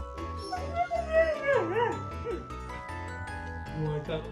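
A dog howls and whimpers in the morning, rising and falling in drawn-out, close, loud wails with yips, over background music.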